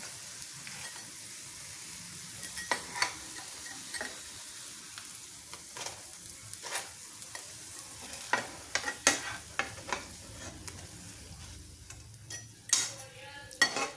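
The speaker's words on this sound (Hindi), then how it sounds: "थोड़ा सा दबा के सेकेंगे तो ये अंदर तक सिक जाएगी आराम से" Aloo tikki, healthy potato patties, being pressed and pan-roasted, giving a steady soft sizzle throughout with scattered spatula scrapes and taps against the pan, louder clinks near the end; no talking.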